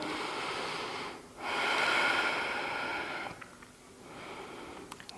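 Heavy breaths in and out during an abdominal exercise aimed at a flat belly, with drawn-out airy exhales and sniffing inhales, close and fairly quiet, with no talking.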